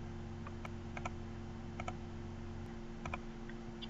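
Quiet computer-keyboard typing of an email address, a few sparse clusters of light key clicks over a steady electrical hum, close and faint, with no talking.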